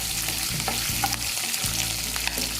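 Green chilies fry in hot oil for gongura rice, giving a close, steady sizzle broken by brief stirring scrapes, with no talking.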